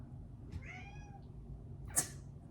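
A pet cat gives one drawn-out, wavering meow close by, followed a moment later by a short sharp sound, with a quiet indoor room hum underneath and no talking.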